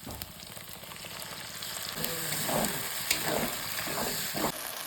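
Cumin, chili, ginger-garlic paste, potato and peas frying in hot oil, a steady sizzle with scraping stirs building through the middle, no voices.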